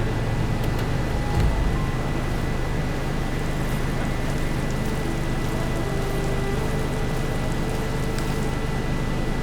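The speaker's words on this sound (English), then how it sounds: "Rain." Steady rain falls in the video game Horizon Forbidden West, a dense, even hiss of drops with a low rumble underneath that continues throughout.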